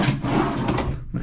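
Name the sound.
hotel room drawer opening or closing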